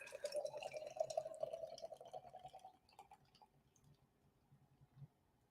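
A chocolate cherry hazelnut coffee pastry milk stout beer pours steadily into a glass for about three seconds, then fades to faint fizzing and drips, soft and close with no talk.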